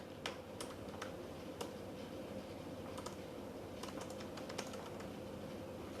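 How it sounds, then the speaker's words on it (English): Quiet, close typing on a computer keyboard, with irregular bursts of soft key clicks scattered over a low, steady background hum. "So let's start typing again."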